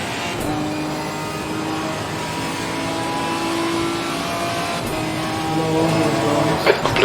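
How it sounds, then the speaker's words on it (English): In Assetto Corsa Competizione, during a multi-class race at Silverstone, a race car approaches with a continuous engine drone that grows a little louder and more intense toward the end, over a steady hum of track ambience. "There's a faster car approaching."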